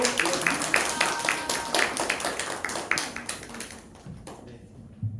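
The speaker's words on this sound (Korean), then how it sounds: "예, 큰 박수로." A church youth-group crowd applauds with dense, steady clapping that runs for about four seconds before fading out, loud and fairly close.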